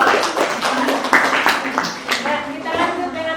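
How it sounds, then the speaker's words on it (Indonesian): A classroom audience claps for a presenting group of student teachers, a dense spread of quick hand claps running throughout, fairly close and steady, with voices mixed in. "kita tepuk tangan untuk kelompok."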